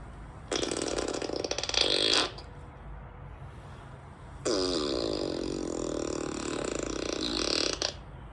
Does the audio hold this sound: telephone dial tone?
no